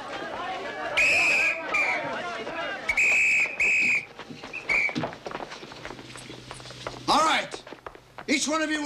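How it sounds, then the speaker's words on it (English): Sharp, loud whistle blasts sounded as a signal, several short bursts in quick succession followed by a later one, amid footsteps and background chatter. "On the whistle."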